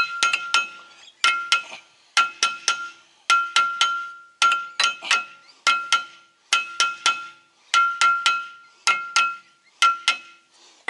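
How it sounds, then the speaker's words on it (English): A hammer face strikes a brake rotor on an AE92 Toyota Corolla, fitting a tight floating rotor onto the hub. Clinking metallic blows ring out in repeated quick bursts of two to four hits with short pauses between. "I'll just hit it with the face of the hammer."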